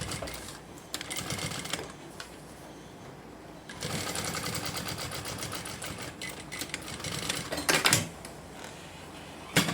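Sewing machine stitching a bag strap, its motor whirring in bursts of rapid stitching broken by brief pauses and a few clicks, close and fairly loud with no talk.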